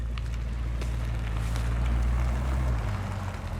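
A Chevrolet Corvette C8's engine idles with a deep, steady rumble and low harmonic tones, slightly swelling midway, with some wind noise over it.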